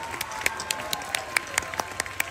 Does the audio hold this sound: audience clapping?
yes